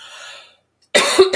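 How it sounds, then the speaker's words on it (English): A single cough from a person with a head cold, loud and close, following a brief faint stretch of talk and a short pause. "And I gotta do a cough."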